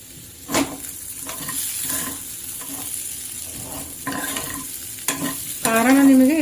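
Potatoes frying with cumin for aloo jeera are stirred in a pan as chilli powder goes in, a steady sizzle broken by several scraping stirs and a louder burst of frying near the end, with no talk.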